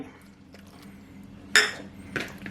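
Marinated duck beaks being mixed with crispy frying batter in a bowl, mostly quiet handling and then two bright clinking bursts of a utensil striking the bowl near the end, close by.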